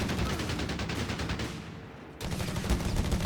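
Rapid machine gun fire from .30 cal and .50 cal guns rattles continuously in a Company of Heroes 3 battle, dense overlapping bursts with a brief dip before resuming.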